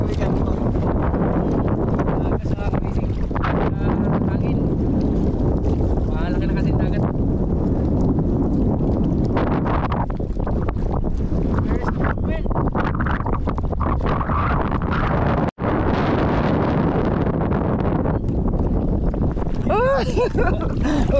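A fishing boat moving across water on a grouper fishing trip, with heavy wind buffeting the microphone throughout, steady rushing noise, with people talking in Filipino at times.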